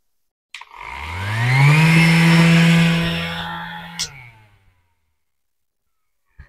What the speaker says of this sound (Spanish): Se escucha, el motor se escucha potente